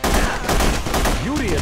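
Rapid gunfire in The Punisher video game, a dense burst of loud close shots packed together, with a voice briefly heard amid the noise.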